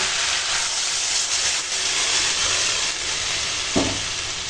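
Masala chicken that has been cooked down in oil sizzles steadily in a pan as water rinsed from the marinating bowl is poured in, bringing a brief sharper burst near the end over the constant loud hiss.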